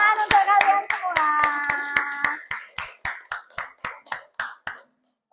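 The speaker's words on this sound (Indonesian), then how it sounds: "Tepuk tangan untuk kalian semua." Children clap their hands together in a classroom, a quick burst of sharp claps that slows into an even, spaced rhythm, with a few voices briefly audible at the start.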